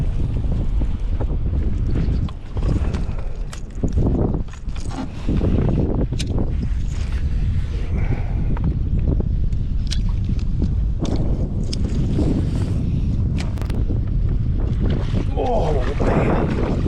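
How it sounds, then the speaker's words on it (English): Gusty wind on a fishing boat, loud buffeting rumble against the microphone with sharp bursts and thumps, and a person talking at times. "Right now it says that the wind is 6 and the gusts are 10. It just feels like double that"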